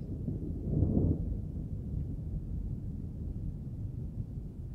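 Thunder during a June storm in Leicester, a deep rumbling roll swelling early then fading into a long low continuous grumble, distant and with no voices.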